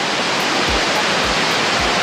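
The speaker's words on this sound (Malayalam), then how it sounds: "ഞാനിപ്പോൾ ഉള്ളത് അരിയിൽ വെള്ളച്ചാട്ടം പയ്യന്നൂരിൽ നിന്ന് കുറച്ച് ദൂരം" Ariyil waterfall near Payyanur pours in a dense, continuous roar of falling water, loud and close, with no voices.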